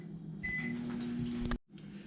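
A microwave oven hums steadily up close while heating peanut butter fudge ingredients, ending abruptly with a click and short silence before the hum resumes.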